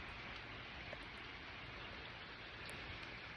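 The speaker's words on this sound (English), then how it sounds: "Here's some raindrops for you" Steady rain falling on a morning farm, a dense, even hiss of drops landing on surfaces all around, with a few brighter individual drips standing out, no voices.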